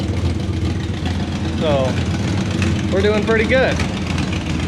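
A 1975 K10 truck engine idles steadily after warming up, a close, even low rumble running throughout while someone talks over it.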